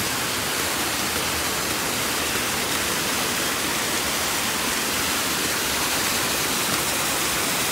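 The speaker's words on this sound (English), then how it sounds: "The water's flowing out through the steps, back down to the river," Water pours out through steps at a resort in the Dominican Republic and runs down into a river, a steady broadband rush heard close up and continuous throughout, with no talking over it.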